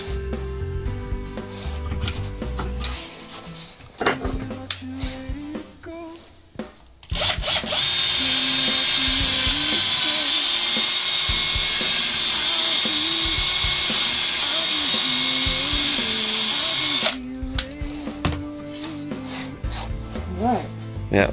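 A power drill bores holes through a wooden dowel while someone prepares for maple tree tapping, a loud, steady whine lasting about ten seconds, with shorter bursts and a voice speaking before and after.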